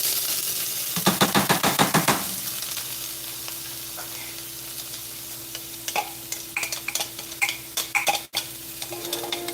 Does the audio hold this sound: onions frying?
yes